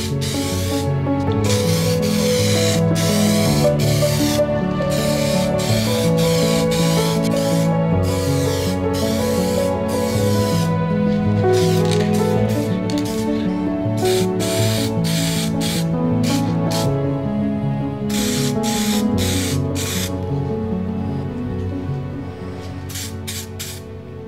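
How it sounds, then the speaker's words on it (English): Bursts of hissing spray from an aerosol rattle can, painting a 1938 STC 830 radio, repeat in short, close pulses, with steady rattling and humming behind them throughout. "They've put it in a rattle can for me so I can easy enough to spray."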